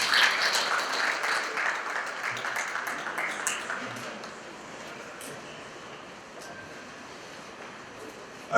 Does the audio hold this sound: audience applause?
yes